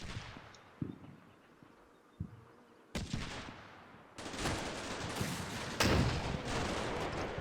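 Faint, distant blasts and sharp reports ring out in a Combat Mission battle, where an AT-4 rocket launcher fires. Several separate bangs punctuate the quiet before a denser roll of fire takes over toward the end.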